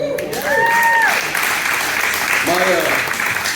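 A room of people applauds a military veteran, the clapping steady and fairly close for about three seconds, with cheering voices and a few tonal whoops rising above it.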